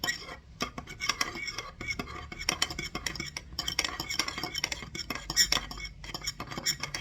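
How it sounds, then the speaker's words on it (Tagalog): A spoon stirs coffee in a cup of hot water, giving a quick irregular run of small metallic clinks against the sides, fairly faint and close, with a soft murmur of voices now and then. "Add 150 ml of hot water. Stir."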